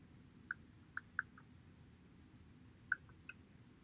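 A search term typed on a computer keyboard: a handful of light, separate key clicks spaced irregularly over a quiet background, with no talking.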